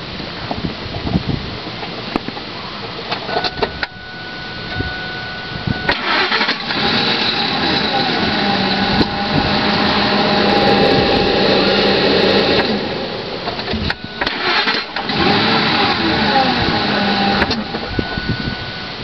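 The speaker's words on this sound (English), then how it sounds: "This is the sound my truck makes when I start it up." A truck engine cranks and starts, then runs with a loud, steady mechanical drone, with a few sharp knocks and short breaks along the way.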